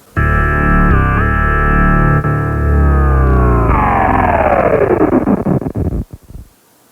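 A heavily distorted, gritty synth line in an electronic remix production, sustained and loud, with the harmonics smearing into a pitch drop near the end before a brief decaying tail.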